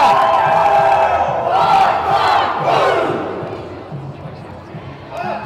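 Loud crowd cheering and shouting at an ultimate frisbee final between Glasgow and Edinburgh, swelling after a big layout play and staying dense, with voices mixed into the roar.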